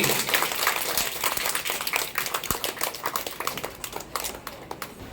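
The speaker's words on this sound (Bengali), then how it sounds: "উত্তর সঠিক তাদের জন্য জোরে একটা করতালি" A group of children clap together for a correct quiz answer in a classroom, a dense burst of applause that thins into scattered individual claps.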